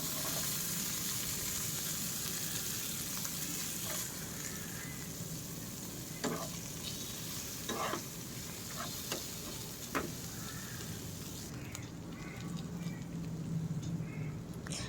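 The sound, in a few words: onions frying with garlic in pan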